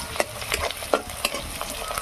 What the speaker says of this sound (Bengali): আদা রসুন দিয়ে ভালো করে কষানো হয়ে গেছে